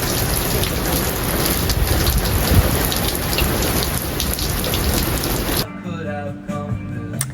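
Heavy rain pours steadily onto a surface, dense and loud and close, then cuts off abruptly near the end as a quieter, different sound takes over.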